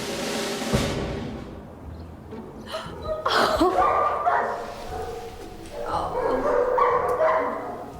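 A dog barks in a British TV comedy scene, several quick barks and yips coming and going amid people talking and room sound.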